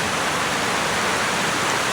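A waterfall in the Cohutta Mountains of North Georgia roars in a steady, dense rush of falling water that fills the whole scene without a break.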